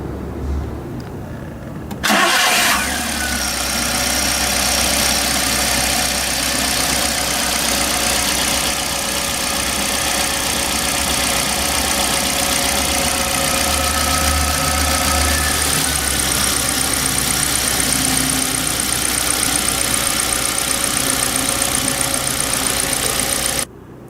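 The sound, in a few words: gasoline car engine starting and idling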